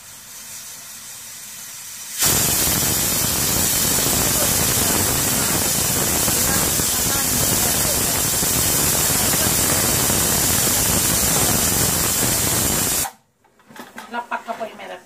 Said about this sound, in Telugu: ఇంకొక విజిల్ రానిద్దాం.